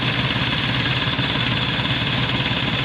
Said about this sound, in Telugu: మన ట్రాక్టర్తో బాటికి వచ్చి కొడుతుంటాము